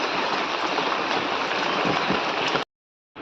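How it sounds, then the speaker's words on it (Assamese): Steady rain pours down outdoors, a dense, even hiss that stays loud for several seconds before cutting off abruptly, then briefly resumes. "এই বৰষুণ দিছে যে তিতিবুৰি আহিলোঁ"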